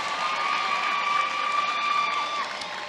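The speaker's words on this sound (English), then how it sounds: "Yes, that deserves applause." Graduates and guests at Prairie View A&M University's 143rd spring commencement fill a large venue with a steady, dense roar of crowd cheering and applause, loud and sustained for about three seconds before easing slightly near the end.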